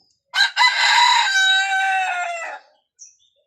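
A rooster crows once in a long, loud, drawn-out call close by, followed by a brief faint cluck, with no talk.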